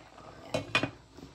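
A lid set onto a pot of cooked brown rice in a home kitchen: two quick metallic clinks close together, then a faint rattle, otherwise quiet.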